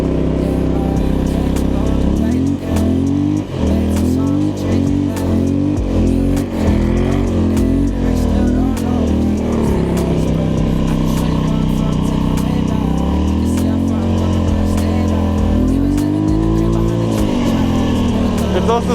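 A Polaris Scrambler ATV in two-wheel drive grinds through deep snow ruts during a blizzard, its engine droning and revving loudly and continuously while a person talks over it.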